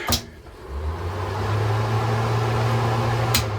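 A small electric fan hums steadily inside a Shasta 16 camper trailer, spinning up over the first second and then holding a constant drone, with a click at the start and another near the end.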